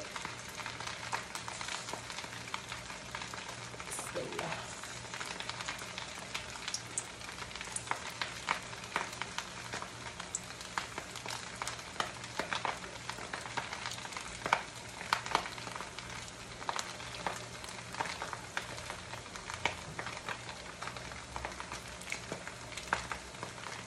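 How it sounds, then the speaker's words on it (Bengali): Chicken pakoras sizzling and crackling in hot oil over medium heat, a steady, fairly quiet frying hiss with scattered pops and no talking. "এখন আমি চিকেন পাকোড়াগুলো আস্তে আস্তে তেলের মধ্যে দিয়ে দিব এক এক করে"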